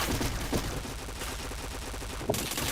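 Gunfire from a multiplayer shooter game comes in a dense, continuous burst of rapid automatic shots, loud and close, with a sharp crack near the end.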